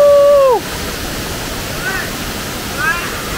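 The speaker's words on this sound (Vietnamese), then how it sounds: "Và chúng ta đã đến chân thác." Steady broad rush of a waterfall heard from the foot of the falls in Ha Giang, continuous and loud, with brief birdlike chirps over it.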